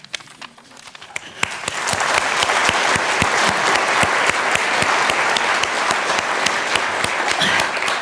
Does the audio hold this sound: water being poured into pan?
no